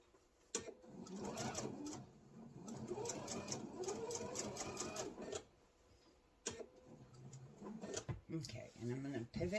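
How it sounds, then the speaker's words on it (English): A sewing machine stitches apron fabric in quick bursts of steady whirring and clatter, pausing and restarting, while someone talks over and between the runs. "I'm going to sew it to the bottom until I'm just not quite, just a little more than 1/4 inch to the bottom"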